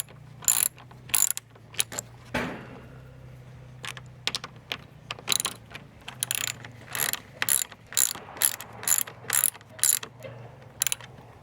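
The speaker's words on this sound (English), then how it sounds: "Then tighten it down with my socket wrench." Socket wrench ratcheting while tightening a nut onto a bolt at a tractor barn build, close bursts of quick clicking repeated in short strokes with pauses between.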